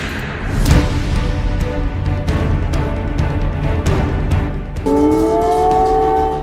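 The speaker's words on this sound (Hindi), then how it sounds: "कीव में मिसाइल वाला सायरन बज रहा है।" A missile air raid siren sounds over Kyiv, a wavering rising tone that grows clearer near the end over a rumbling, noisy outdoor background with scattered knocks.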